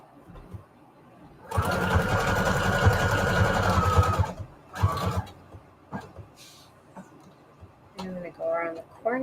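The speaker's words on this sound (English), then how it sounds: "I'm going to put a zigzag on here" Sewing machine running a long, wide zigzag stitch across fabric scraps on a junk journal tag: a steady rapid mechanical whirr for about three seconds, then short bursts, with a person talking near the end.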